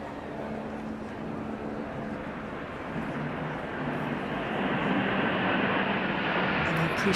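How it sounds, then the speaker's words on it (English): Four RAF Typhoon jets fly past in box formation, a broad, steady roar that slowly swells louder as they approach. "Next we have 4 Typhoons flying in box 4 formation."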